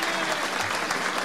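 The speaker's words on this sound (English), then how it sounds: "How about a big round of applause for all of them as well?" Audience at a governor-elect's victory speech applauding, a dense, steady wash of clapping throughout, loud and close with no gaps.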